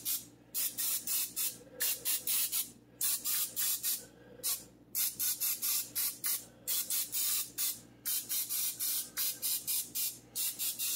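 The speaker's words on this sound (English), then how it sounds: "give them each a little spritz of olive oil" An olive oil spray bottle spritzing cauliflower cutlets hisses in a long series of short, sharp spritzes, repeating in quick rhythmic bursts with brief pauses between.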